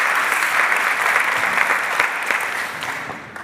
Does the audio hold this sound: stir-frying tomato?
no